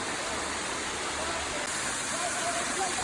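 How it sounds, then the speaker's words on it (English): Rincon Waterfall in Trinidad and Tobago, a steady broadband roar of rushing, falling water, close and constant for the whole stretch with no voices over it. "welcome to Rincon Waterfall"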